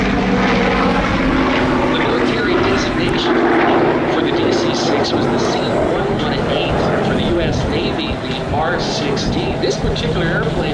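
Loud propeller engines of a DC-6 airplane roar steadily past at the Oshkosh airshow, a dense continuous drone with some background chatter mixed in.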